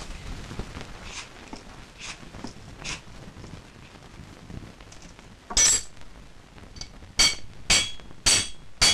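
Sharp metallic strikes ring out in a quick series of five or six hammer blows, preceded by softer scattered knocks and shuffling.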